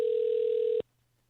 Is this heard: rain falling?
no